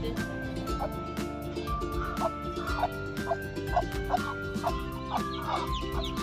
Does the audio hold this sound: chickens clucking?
yes